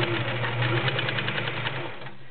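A vintage 1940 Kenmore convertible sewing machine, a non-industrial home model, runs steadily while stitching through a couple of layers of garment leather, giving a close, continuous motor hum with rapid rhythmic needle clatter and no voices.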